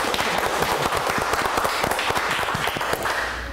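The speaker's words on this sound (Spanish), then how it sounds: "Por supuesto, un gran aplauso." Studio audience applause at the end of a televised interview, loud dense clapping with sharp rapid claps sustained throughout.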